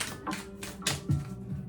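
A deck of new tarot cards is shuffled with care, giving soft papery riffles and light taps in short bursts, close by and fairly quiet.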